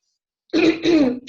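Someone clears their throat twice in quick succession, a close, harsh rasping after a moment of silence.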